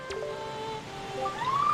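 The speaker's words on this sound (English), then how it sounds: "I thought the sound of the waves would drown it out." Ocean waves wash in The Legend of Zelda: The Wind Waker, a steady soft surf hiss under a layer of tonal game music, with a brief sweeping chime near the start and a rising melodic line toward the end.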